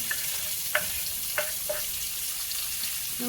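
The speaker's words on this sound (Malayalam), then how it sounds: "അരിഞ്ഞ് വെച്ചേക്കുന്ന ഉള്ളിയും ടൊമാറ്റോയും കൂടെ വഴറ്റിയെടുക്കാം" Chopped onion and tomato sauté in a hot pan, a steady sizzle with a few sharp clinks of a spoon against the pan, close by and with no voices.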